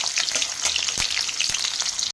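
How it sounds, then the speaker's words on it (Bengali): Garlic cloves fry in hot refined oil in a kadai, producing a bright, crackling sizzle with scattered pops and spits. The sound stays loud and close, then cuts off abruptly. "যেটা আমি গোল্ডেন ব্রাউন করে ভেজে নেব।"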